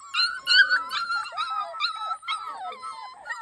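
Young puppies whine and whimper in high, wavering cries that overlap one another, close and continuous over a few seconds.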